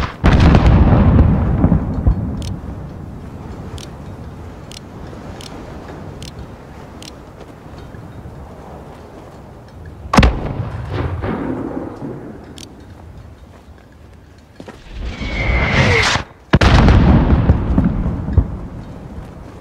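Mortar fire and explosions in Call of Duty: Modern Warfare (2019), a rumbling barrage up front, then sharp near blasts around ten and fifteen seconds and a heavy roaring finish, with faint crackling distant impacts between.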